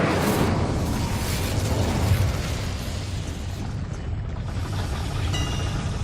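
The Incendio fire spell in Hogwarts Legacy erupts in a loud, roaring whoosh of burning blast noise that sustains and rumbles throughout.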